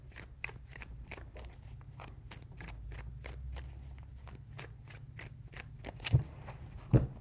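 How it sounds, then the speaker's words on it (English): Tarot cards are riffled and shuffled in a rapid run of crisp, evenly spaced flicks close by, ending with two heavier thumps as the deck settles. "Three shuffles."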